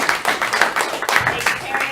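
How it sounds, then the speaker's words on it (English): A live audience claps for a person asked to stand, the applause steady and moderately loud with bursts of hand claps close by and a faint murmur of voices underneath. "Can you stand up so we can applaud for you?"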